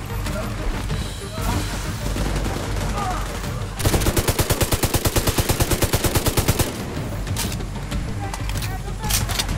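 Heavy gunfire from the video game The Division 2 in a loud firefight: dense shooting throughout, with a fast, evenly spaced automatic burst in the middle and a voice talking over it at times.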